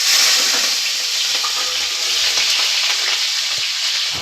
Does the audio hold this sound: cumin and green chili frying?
yes